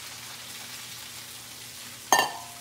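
Low steady sizzle of bacon and onion frying in a pan, then a sudden loud hiss as garlic and tomatoes hit the hot fat near the end.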